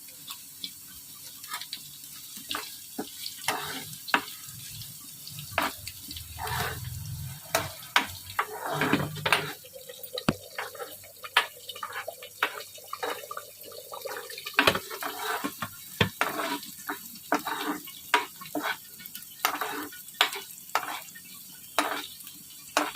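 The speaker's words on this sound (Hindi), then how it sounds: "हमारा तड़का अच्छे से फ्राई हो गया है।" Tempering spices with green chillies sizzle and crackle in hot oil, with sharp clinks and scrapes of a spoon stirring the pan at irregular intervals throughout.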